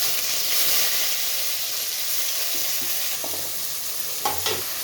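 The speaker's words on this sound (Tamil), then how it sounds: "பாருங்கள், இப்போ வெங்காயம் சேர்த்தாச்சு." Onions fry in hot oil with mustard seeds in a pan, giving a constant bright sizzle and hiss, with a couple of faint utensil scrapes near the end.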